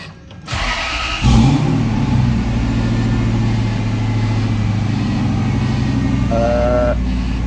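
A Volvo sleeper car engine cranks and catches at about one second, then settles into a loud, steady running idle with a deep rumble that continues to the end.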